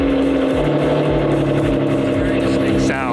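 Supercar with a non-stock aftermarket exhaust fires up and settles into a loud, steady, low idle rumble that stays close throughout, with faint voices talking underneath.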